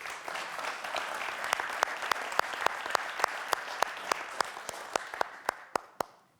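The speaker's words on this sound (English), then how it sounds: "perhaps a warm round of applause." Warm applause for a speaker invited on stage at a plenary opening of an international summit, a broad crowd of hands with sharp individual claps standing out, steady then thinning and fading out at the end.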